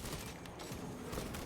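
An upgraded, accuracy-boosted pistol fires in Warhammer 40K: Space Marine 2 amid dense combat, a faint continuous rattle of gunfire blending into a constant noisy battle din.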